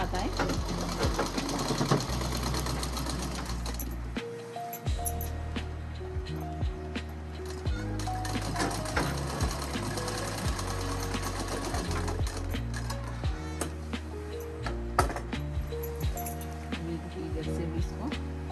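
An electric sewing machine stitches the shoulder seam of a coat suit, its rapid mechanical chatter running in bursts with short pauses, close and steady, with a person speaking intermittently over it.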